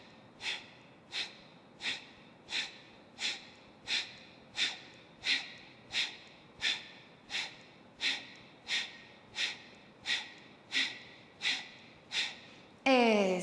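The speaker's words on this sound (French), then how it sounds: "Inspirez profondément par le nez." Rhythmic forceful breaths through the nose, about twenty quick even puffs at a steady pace, close and clear, during a yoga breathing exercise aimed at digestion.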